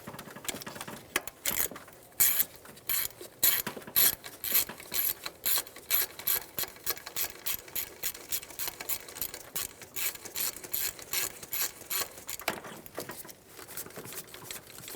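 A ratchet snugs the fuel injector bolts on a 2003-2008 Honda Pilot in quick, rhythmic bursts of clicking strokes, close and fairly quiet, with no talking.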